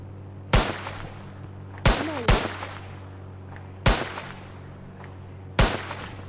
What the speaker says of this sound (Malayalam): ഇനി ഇതെടുത്ത് നമുക്ക് വെടിവെക്കണം തോന്നുന്നു.